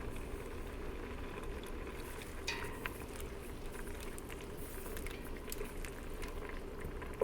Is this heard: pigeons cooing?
no